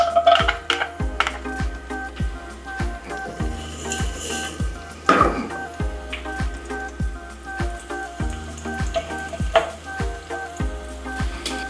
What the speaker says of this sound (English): Then we're going to start sauteing our garlic.